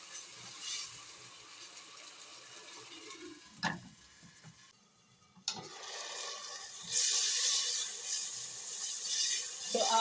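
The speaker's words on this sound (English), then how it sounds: "we are going to cook down our garlic" Garlic sizzles softly in a pan as it cooks down for an old-school vegetable stew, a quiet crackling hiss broken by a couple of stirring knocks, then swelling louder toward the end.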